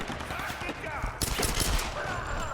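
Gunfire aimed at the player in the video game Tomb Raider, a burst of rapid shots cracking out amid dense game noise, loudest in the second half, with a voice mixed in.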